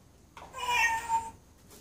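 A single cat gives one short, clear meow, fairly close and quiet, in an otherwise still room.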